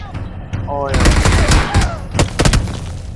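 Rapid bursts of automatic gunfire in a mobile battle royale game, close and loud, several sharp shot clusters in quick succession with faint in-game voice underneath.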